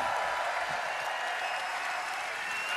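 The crowd at the Eurovision Song Contest grand final applauds the host in a large arena, a continuous, broad roar of clapping at an even level with no break.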